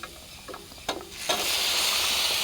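Cooked jackfruit seeds and peas being mixed in a pan for bole samosa filling: a few soft clinks and scrapes, then a steady close sizzle and hiss runs to the end.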